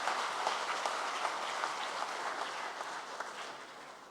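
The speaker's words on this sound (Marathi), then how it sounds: "आपण टाळ्या वाजवून त्यांचं अभिनंदन करूया." A church congregation at Our Lady of Fatima applauds together after a feast-day Mass, a dense, steady roar of many hands clapping that holds evenly and fades slightly toward the end.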